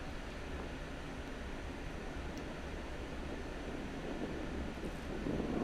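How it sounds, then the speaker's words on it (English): Strong wind sweeps across an open disc golf course, a steady, loud, broadband roar buffeting the microphone throughout, swelling slightly near the end, with no voices. "it definitely picked up some wind out here on these more open holes"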